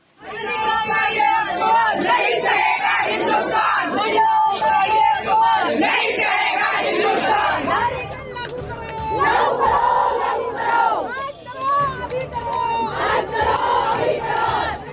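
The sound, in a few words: protest crowd shouting slogans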